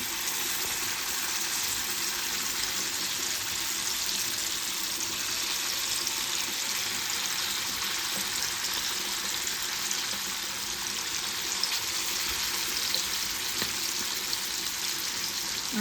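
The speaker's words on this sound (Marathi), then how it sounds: "आता इथे फ्राय पॅनमध्ये तेल घेतलेलं आहे तेल आता गरम झालेलं आहे आणि त्याच्यामध्ये ही मच्छी आहे फ्राय करून घेणार आहे" Fish frying in hot oil in a frying pan, a steady, continuous sizzle that holds at an even level throughout without any talking.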